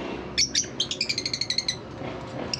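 Cobalt blue pet breeder birds chirp close by in a quick run of bright, high tweets that cluster in the middle of the clip, over a low background hum.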